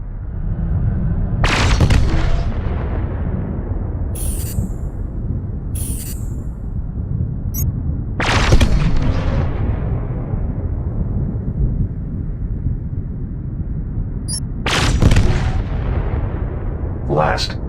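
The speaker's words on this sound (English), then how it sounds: "Now let's try laser weapons." Spaceship laser weapons firing in the space game SpaceBourne: a few loud blasts with sharp high zaps over a constant deep engine rumble, spaced several seconds apart.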